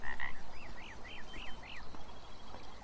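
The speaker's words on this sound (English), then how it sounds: "This is a bridge. That is a frog." A frog in the video game Beyond Eyes croaks in a quick series of five rising-falling calls after two shorter opening notes, fairly close and clear over a quiet ambient bed.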